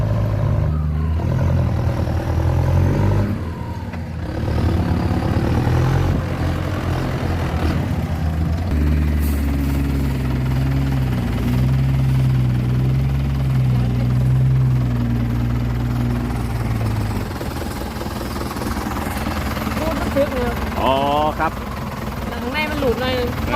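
A Ford 7610 tractor's heavy diesel engine rumbles loudly and steadily, rising in pitch as it revs, with a mechanical clatter and a voice briefly talking near the end.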